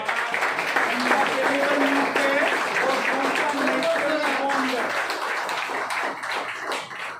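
A crowd at a training meeting claps continuously, a dense patter of hands that stays strong throughout while a voice speaks over it partway through.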